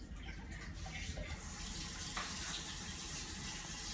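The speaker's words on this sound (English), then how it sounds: "So we're just gonna use tablespoons to add the water." Water is poured tablespoon by tablespoon in a small home experiment, a steady quiet trickling and splashing that runs continuously with no voices over it.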